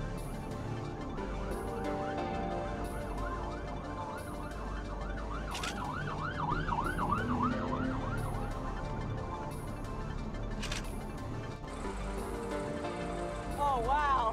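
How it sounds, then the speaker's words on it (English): Tornado sirens wail in El Reno, Oklahoma during an April 2006 tornado outbreak, rising and falling in long repeated sweeps over steady wind and traffic rumble, with a second siren joining near the end while people talk throughout. "The tornado sirens are sounding in El Reno right now. We can hear them."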